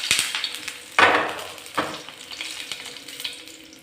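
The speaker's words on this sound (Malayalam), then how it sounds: "എണ്ണ നന്നായി ചൂടായി വരുമ്പോൾ 1/2 ടീസ്പൂൺ കടുകും വറ്റൽമുളക് നുറുക്കിയതും കറിവേപ്പിലയും ചേർത്ത് താളിച്ചെടുക്കണം." Mustard seeds, dried chilli pieces and curry leaves sizzle and crackle in hot oil for a tempering, with a few sharp spattering bursts over a soft steady fry, fairly quiet and close.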